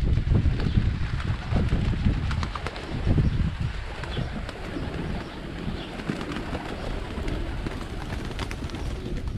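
Pigeons being fed outdoors in Yozgat: soft cooing and fluttering among the flock under strong, constant wind buffeting the microphone, with scattered bird calls and faint rustling throughout.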